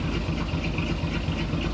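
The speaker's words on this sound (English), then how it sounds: "I don't know if you can hear the exhaust. Sounds pretty good." A 1954 Chevy 210 exhaust idles in a steady, low rumbling loop, close and continuous with no other sounds over it.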